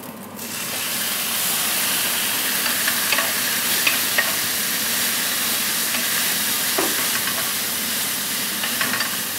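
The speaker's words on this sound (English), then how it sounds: "Stir that in, and the balsamic vinegar has a lovely sweet flavour." Beef frying over low heat for spicy fajitas sizzles and hisses steadily as balsamic vinegar is stirred in, with occasional scraping taps of the utensil, close and continuous with no voices.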